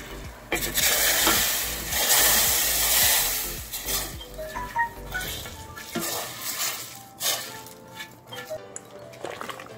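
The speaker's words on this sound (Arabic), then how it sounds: "غنبقى نبدا نحرك لحد ما طيب" Semolina and water stirred in a pot for Syrian mamounia, a steady scraping and swishing with spoon knocks against the pot, close and fairly loud, with a few clinks toward the end.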